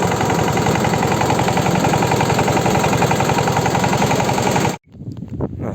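A mini tractor engine runs in low gear with a trailer attached, giving a loud, continuous, fast knocking rattle up close. It cuts off abruptly near the end, and rougher rumbling follows.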